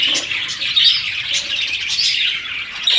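Budgerigars chirp steadily and fairly close in an outdoor breeding setup, a continuous bright twittering of several birds with no talking.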